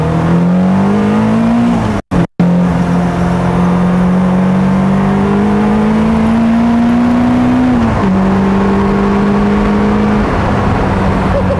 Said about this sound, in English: you can just nail it and you can let the car take off